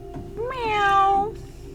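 A single drawn-out cat meow, close and clear, rising then falling in pitch over about a second.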